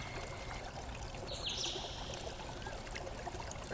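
A creek flows in a steady, even wash of running water that lasts the whole stretch, with faint bird calls high above it and no voices.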